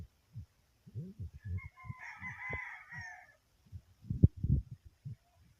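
A rooster crows once in a long drawn call, heard moderately close, while someone talks steadily over it before and after.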